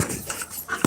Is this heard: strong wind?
no